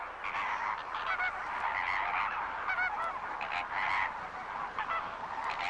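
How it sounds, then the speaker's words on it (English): A flock of flamingos honks loud alarm calls continuously, many overlapping nasal calls rising and falling together in a noisy chorus. "The birds use loud honking calls to activate the flock."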